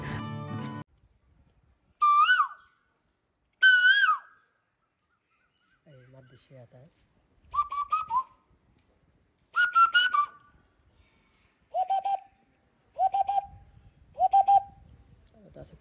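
A man whistles and calls in imitation of birds, producing short separate bursts of rising, fluting notes and warbles with pauses between each.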